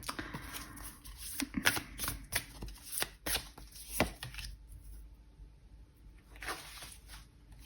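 Tarot cards are shuffled by hand, close and soft, with quick riffling and flicking bursts, a short pause, then a few more faint shuffles.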